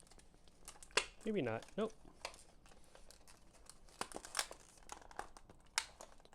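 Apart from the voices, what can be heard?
plastic packaging of Energizer MAX C batteries being torn open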